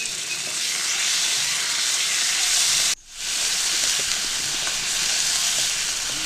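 Ground onion paste drops into hot oil for a Bengali katla fish curry and sizzles with a loud, steady hiss that dips briefly and then swells back to a constant close frying roar.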